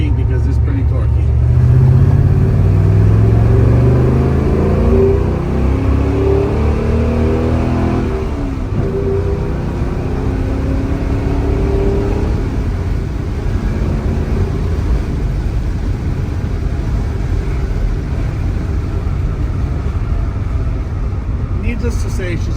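A 1968 Maserati Ghibli 4.7-litre coupe's engine revs and pulls hard through the gears, heard from the passenger seat: a loud continuous roar with rising and falling pitch, steady and close throughout.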